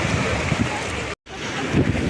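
Rough sea with waves and wind at a beach makes a loud, continuous broadband roar with heavy wind buffeting on the microphone, briefly cut to silence midway, with no clear talk.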